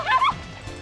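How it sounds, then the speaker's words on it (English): A dog in the video game Ever 17 gives a short pair of close, high yelping barks, then falls quiet against a low background hum. "he looked up to the sky and started barking at something"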